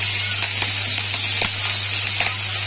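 Curry leaves fry in hot oil in a wok with a continuous bright sizzle and hiss, broken by a few sharper crackling pops.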